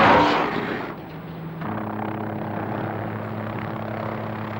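A helicopter flying over the tundra near Churchill, carrying an immobilized polar bear, produces a steady droning engine and rotor hum with low tonal bands, holding continuously at close-to-moderate distance after a brief louder rush at the start.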